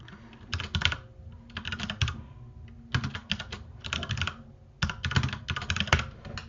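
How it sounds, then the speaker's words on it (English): Typing on a computer keyboard while working in a code editor, several quick bursts of clattering keystrokes separated by short pauses, close and clear with no talking. "I don't know why I typed that"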